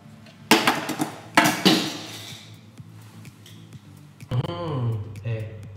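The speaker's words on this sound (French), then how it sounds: "Maintenant, j'ouvre le couvercle" A metal lid is lifted off a pot of cooking kale with two sharp metallic clanks close by, followed by a quieter stretch and then a person speaking.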